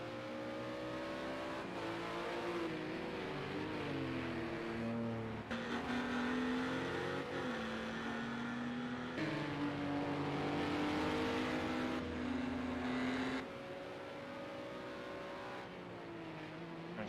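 Race cars drive on a track on cold tyres, a steady engine drone with rising and falling pitch as the cars shift gears, moderately distant and continuous.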